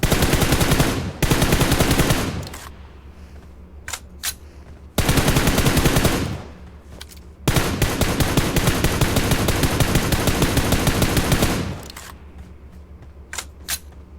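Automatic gunfire in the PUBG Mobile battle game in three loud, close bursts of rapid shots, with quieter scattered single shots in the gaps between them.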